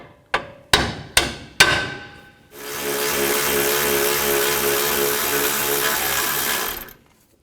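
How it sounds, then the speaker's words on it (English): Four sharp metallic hammer blows ring out close up as a bolt is driven from a Chrysler 200 rear shock absorber, followed by a loud, steady mechanical whir that runs for several seconds before cutting off. "Now I'm going to support the shock while I hammer this bolt out."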